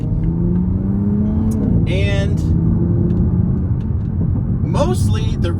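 Steady low engine rumble from a Toyota GR Supra on the move, a continuous road and motor drone carrying through the whole stretch while a person talks over it.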